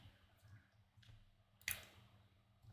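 Two sharp computer mouse clicks, one around the middle and one at the very end, crisp and close against a faint low hum, with no talking.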